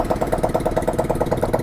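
A Honda Click 160cc scooter engine runs with no exhaust pipe fitted, giving a loud, rapid, even putter close by.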